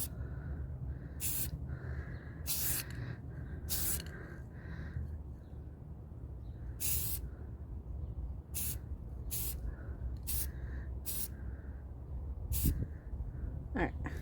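Spray can applying light coats of matte black paint to old Moterm rings outdoors, a series of sharp hissing bursts of one to two seconds each, with breezy background and a person speaking at times.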